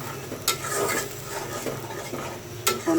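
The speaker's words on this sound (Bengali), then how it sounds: "এখন ভালোভাবে মশলাটা কষিয়ে নেব।" Spice paste stir-fried in a pan, with a steady scraping stir and soft sizzle throughout, punctuated by a couple of sharp metal clinks of spoon against the pan, close up and without talk.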